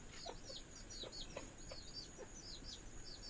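Short, soft calls repeat irregularly over a steady outdoor hiss, chickens clucking and chirping at a moderate distance on a farm.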